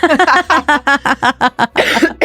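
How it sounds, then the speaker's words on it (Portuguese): A run of about a dozen short, evenly spaced bursts that sound like repeated coughing, close and loud, with a rougher burst at the end. "Vou começar a tossir."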